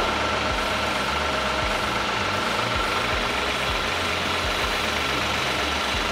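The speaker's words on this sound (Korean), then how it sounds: "엔진 소리 일정하고 좋습니다" A Kia K9 3.8 GDI AWD engine idles with a steady, low rumble, continuous and even throughout, loud and close, with no speech.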